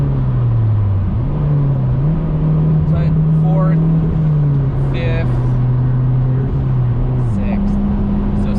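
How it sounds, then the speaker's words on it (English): A turbocharged K20-engined 8th-generation Honda Civic Si with a PRL turbo kit cruising on the road, its steady low engine drone shifting pitch through gear changes while someone talks over it from inside the cabin. "Try to drive the car, let you guys hear it."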